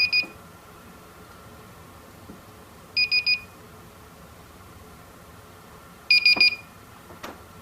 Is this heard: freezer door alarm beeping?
yes